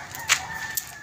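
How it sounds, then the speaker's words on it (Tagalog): A rooster gives a couple of short, bright crowing or clucking bursts close by, one louder and a fainter one after, over a quiet outdoor background. "Manok."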